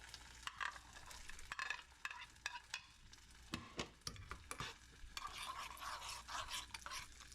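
Raisins fry and sizzle in a pan as a spoon stirs them for pongal, with irregular scraping stir strokes over a soft, constant sizzle, close and fairly quiet.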